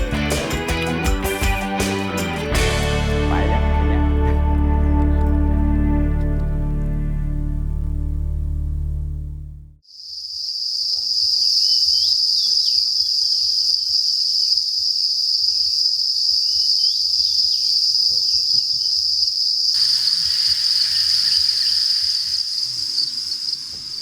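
Farmed crickets chirp in a dense, steady, shrill trill that runs continuously for over ten seconds, following a loud, droning tonal sound that stops abruptly.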